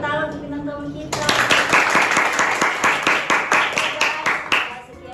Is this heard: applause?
yes